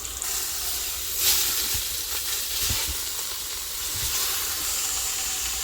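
Beef browning in an Instant Pot on the saute setting, a steady close sizzle and hiss with a few soft clunks, and no talking.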